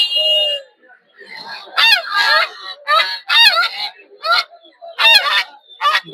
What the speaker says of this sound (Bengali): দেশি হাঁস রাজা হাঁস এখন হাঁসের চাহিদা প্রচুর যেহেতু শীতকাল